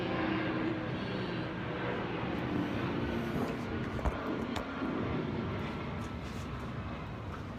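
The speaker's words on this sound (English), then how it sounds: "you're gonna see the plane" An airplane flies overhead near Brickell, Miami: a steady, broad engine roar that holds for several seconds at moderate loudness, heard from inside a building, with no talk.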